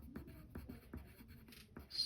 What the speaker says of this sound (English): So we'll write that.